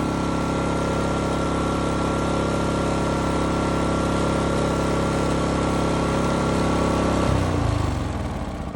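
Portable RV generator running steadily under load, a dense, loud engine drone with a constant hum, close by, shifting slightly near the end.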